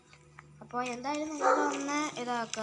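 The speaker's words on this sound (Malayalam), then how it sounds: "ഇപ്പോൾ പുറത്ത് എൻ്റെ പട്ടിയുണ്ട്, അതാണ് ഇങ്ങനെ സൗണ്ട് കേൾക്കുന്നത്." A pet dog barks and yips outside in short bursts, close and fairly clear, overlapping a person talking.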